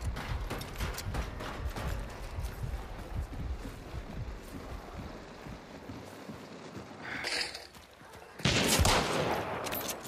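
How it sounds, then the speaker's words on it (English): Hunt: Showdown gunfire pops in quick, fairly faint bursts over a gritty outdoor backdrop, with a louder blast and rushing burst near the end. "I just got shot from behind"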